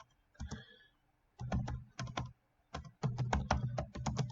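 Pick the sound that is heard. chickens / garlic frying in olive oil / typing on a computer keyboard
typing on a computer keyboard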